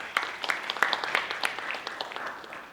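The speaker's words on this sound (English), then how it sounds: "So give them a round of applause" Light audience applause with scattered, uneven claps that thin out toward the end.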